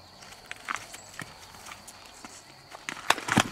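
A Mérens horse trots with relaxed, uneven hoof clip-clops, scattered through the clip and growing louder and sharper near the end over faint outdoor background.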